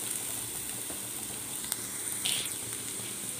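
Vegetables sizzling in a pan, ginger, onion, carrot, capsicum and beans sautéing for Schezwan fried rice; a steady close frying hiss with faint crackles and a brief louder spatter, no voices.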